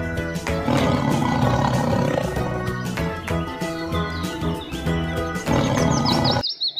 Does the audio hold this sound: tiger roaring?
yes